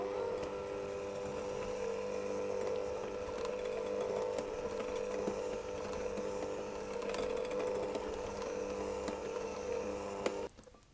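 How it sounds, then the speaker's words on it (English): An electric mixer with whisks runs steadily at low speed, working coconut sablé dough in a bowl, a continuous close whirring hum with occasional scraping that cuts off at the end. "I'm simply going to mix it on a low speed, scraping the bowl as I need to, until I compress it into a nice dough"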